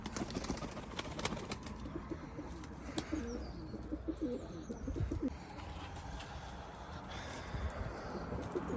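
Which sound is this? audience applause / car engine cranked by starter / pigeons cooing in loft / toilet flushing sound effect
pigeons cooing in loft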